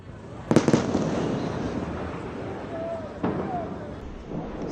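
Explosions from Israeli strikes at night in Tehran, Iran: a sharp cluster of booming blasts followed by a second dull thud farther off, heard over continuous outdoor ambience.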